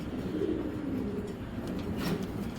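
A pigeon coos softly in a loft of fancy Bengali pigeon breeds, a low repeated throaty call over faint background hum, with no one talking.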